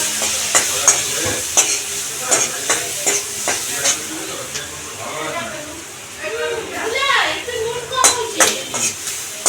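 Chopped onion sizzles in butter and oil in a pan while a spatula stirs and scrapes in steady strokes, heard up close beneath someone talking.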